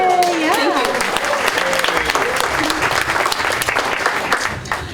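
A convention room audience at a Halloween 5 horror fan panel breaks into sustained, dense applause that stays loud and steady for the whole stretch, with a few voices mixed into the clapping.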